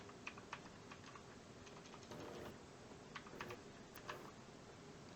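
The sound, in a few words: typing a Linux command on a computer keyboard, pressing Enter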